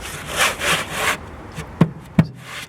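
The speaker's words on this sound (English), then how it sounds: "wire wheel" A wire wheel scrubs rust off the box section and subframe mount area of a Triumph Dolomite, with a rough, broadband grinding rasp for about a second, then quieter scraping and two sharp knocks near the end.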